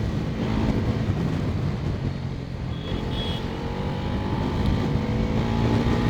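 Bajaj Pulsar NS400Z motorcycle running in fourth gear after a firmware update, a steady loud engine drone mixed with heavy wind rush, holding a constant pitch throughout with no speech.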